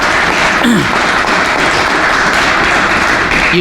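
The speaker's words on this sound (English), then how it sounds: "can we give him another round of applause?" Audience applause at the grand opening of the FlexEl facility in College Park, a steady, loud wash of clapping that holds evenly throughout with no voices over it.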